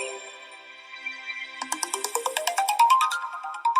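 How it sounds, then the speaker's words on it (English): An electronic phone ringtone plays, starting as a sustained melody and then breaking into a rapid, rising sequence of bright repeated beeps, loud and close. "Is that the phone ringtone?"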